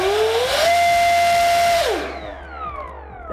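Loud electric ducted fan whines up to a high steady pitch, holds, then spools down with a falling whine.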